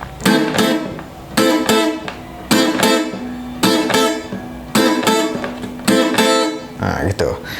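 A guitar plays a reggae strumming pattern, down then up strokes, in loud, evenly spaced bursts that repeat about once a second before trailing off at the end.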